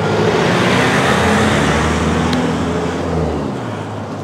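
A truck passes on a road as a loud, broad rushing roar that holds strong and then fades away as it moves off.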